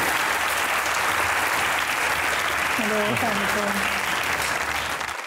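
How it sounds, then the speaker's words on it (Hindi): An audience at a comedy show claps in steady, loud applause, with a brief voice or hum rising over the clapping midway before it continues to the end. "अच्छा, तालियां होनी चाहिए।"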